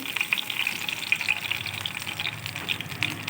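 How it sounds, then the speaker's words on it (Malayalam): Curry leaves and crushed garlic dropped into hot oil in a pan, popping and sizzling loudly and continuously at close range with no talking. "ഇതിൽ ചേർത്ത് കൊടുക്കാം കേട്ടോ കറിവേപ്പിലയും ചേർത്ത്"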